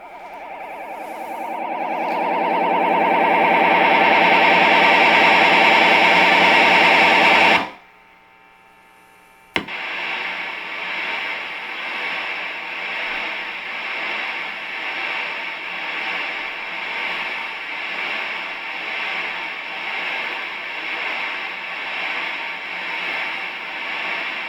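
Kemper Profiler test tones run through a distorted amp with no cabinet for a direct profile: a loud harsh swelling noise, a brief silence, then a steady pulsing buzzy tone that continues to the end, with no talking.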